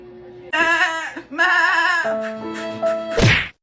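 A comedic goat bleating sound effect sounds as several loud, close, quavering bleats in quick succession, ending in a sharp thump.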